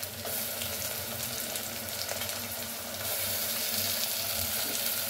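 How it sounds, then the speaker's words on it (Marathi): Chillies and tomatoes hit hot oil in a frying pan with a steady, dense sizzle that swells louder partway through, close and continuous with no voices. "आता मिरची टाकून देऊया आणि टोमॅटो पण टाकून देऊया"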